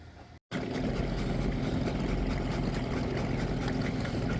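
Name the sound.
big boat motor running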